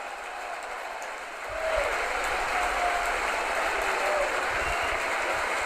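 A rugby crowd at Kingsholm, Gloucester, bursts into applause as the players run out onto the pitch for a hybrid cup match; the clapping swells quickly from a quieter murmur and then holds as a broad, distant roar.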